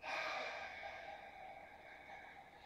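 A single soft, close breath drawn in during a Pilates exercise, faint and airy, fading gradually, with no talk.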